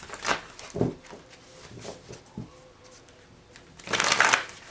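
Tarot cards being shuffled by hand, soft riffling and slapping bursts at irregular intervals ending in a longer, louder riffle, close up with no talk.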